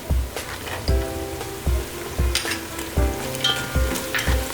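Cashews fry with ginger garlic paste and whole spices for veg biryani, a steady close sizzle punctuated by rhythmic thumping stirs of a spoon against the pan about once a second.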